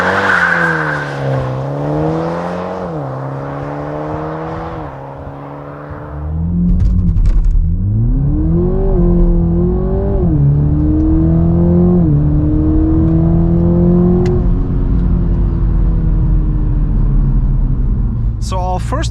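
A 2021 Toyota Supra 2.0 with 258 hp launches hard on a country road, its engine climbing through the gears in loud rising sweeps with brief dips at each upshift, the revs staying high and continuous to the end.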